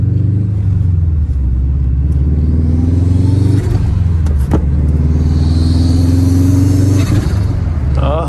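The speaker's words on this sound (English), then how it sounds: "Hearing all these turbo noises." A turbocharged Subaru WRX with about 300 horsepower accelerates in loud, close engine rumble, revs climbing twice in long pulls and easing between them, heard from inside the car.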